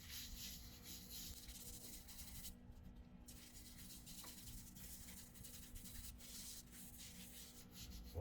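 Abrasive paste rubbed by hand over a shellac wood finish, giving a steady, continuous close-up scrubbing hiss that runs throughout with no talking.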